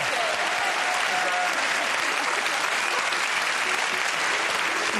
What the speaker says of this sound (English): Everybody, a round of applause for Georgie